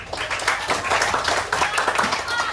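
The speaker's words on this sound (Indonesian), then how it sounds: "Kasih tepuk tangan." A group of primary school teachers at a training session in Muara Enim claps hands in applause, a dense, steady patter of many hands held at even loudness for the whole stretch.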